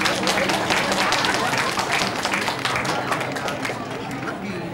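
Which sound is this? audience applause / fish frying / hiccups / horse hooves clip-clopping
audience applause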